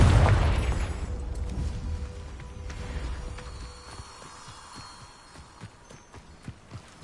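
A Confringo spell explosion in the video game Hogwarts Legacy, a single loud booming blast with a heavy low rumble that fades slowly over several seconds, followed by faint scattered clicks.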